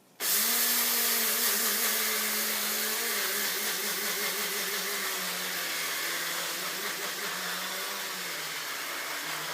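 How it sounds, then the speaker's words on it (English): An electric coffee grinder starts abruptly and grinds a filling of sesame seeds in a loud, steady whine, its pitch wavering slightly as the seeds break down, running alone without talk. "So I put one filling of my coffee grinder, and I grind it now."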